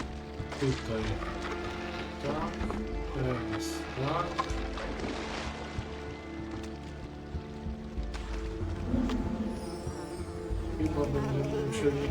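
Swarming mosquitoes drone and whine in the video game Unravel, a steady insect buzz layered over game music and effects throughout, with a voice talking over it.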